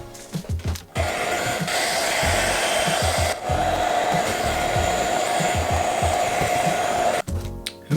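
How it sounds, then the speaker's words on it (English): A hair dryer blows steadily at close range on a vinyl skin on a Sony camera for several seconds, with brief handling noises and bumps at the start and end. "I'm going to give that a quick blast with the hairdryer now"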